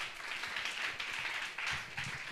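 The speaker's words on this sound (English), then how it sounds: "clap for me" Brief applause from an audience at a youth employability forum, a scattered burst of clapping that swells, dips and rises again, fairly quiet and with no talk over it.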